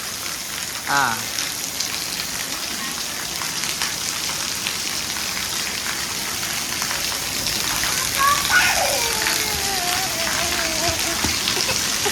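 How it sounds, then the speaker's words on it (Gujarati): Rain pours steadily during the first monsoon shower while water runs off the roof eaves, a dense even hiss with patter and drips, and a brief voice and other faint calls sounding over it. "નેવાનું પોણી પડવાનું સ્ટાર્ટ થઈ ગયું છે"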